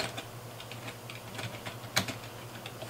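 A fastboot command is typed on a computer keyboard: quick, light key clicks in an uneven rhythm, close by and quiet, with one slightly sharper keystroke partway through.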